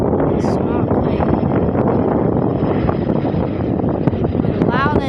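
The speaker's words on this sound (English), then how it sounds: "and there's a plane taking off." A small plane taking off with a loud engine, a steady roaring drone heard nearby with wind buffeting the microphone throughout.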